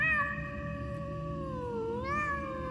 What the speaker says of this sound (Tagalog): nang marinig ko ang kanyang ngiyaw